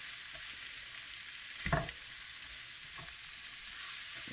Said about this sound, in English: You just fry these up until they're starting to cook